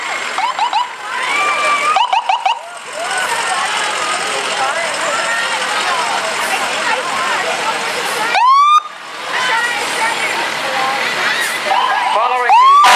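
A fire truck rolling in a July 4th parade in New Boston, with short rising siren whoops bursting out twice over crowd noise and talk.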